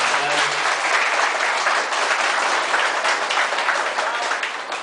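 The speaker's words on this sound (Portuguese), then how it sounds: "Uma salva de palmas," An audience bursts into loud, sustained applause, a dense and even roar of many hands clapping close by that holds steady before easing slightly at the end.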